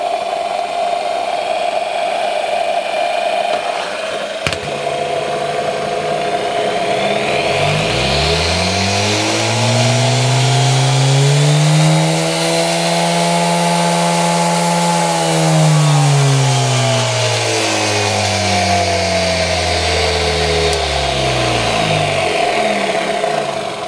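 A Lidl Parkside bench grinder with a wobbly shaft runs steadily, its motor hum sweeping up and easing back down in pitch as it spins, loud and close with no talk.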